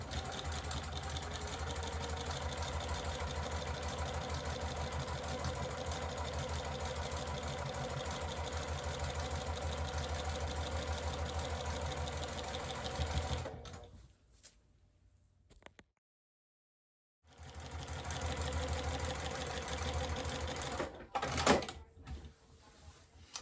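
A sewing machine stitches straight lines across a quilt with batting, humming steadily and close for about thirteen seconds, falls silent for a few seconds, then starts again in a shorter run with a few clunks.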